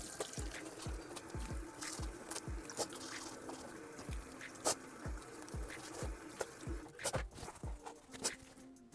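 Water swishes and trickles in short, repeated splashy bursts as a mouth is rinsed during a teeth-whitening oral hygiene routine, close and fairly quiet with no talking.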